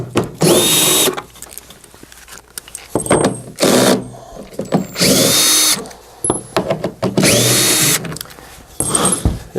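Nut driver runs in short powered bursts, removing the six bolts that hold the upper housing on a Phoenix DryMAX XL, close and loud with whining spin-ups separated by brief pauses and clicks.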